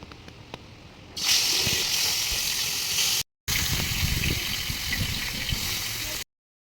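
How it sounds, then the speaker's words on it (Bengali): Karko fish coated in salt and turmeric goes into hot oil in a wok. A loud, steady frying hiss bursts in after a quieter start, breaks briefly, then continues before cutting off. "নুন হলুদ দিয়ে মেখে রাখা মাছটা আমি এখন কড়াইয়ের মধ্যে দিয়ে দেব"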